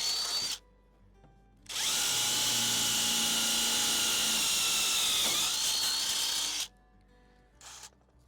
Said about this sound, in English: I'm going to pre-drill some holes for these screws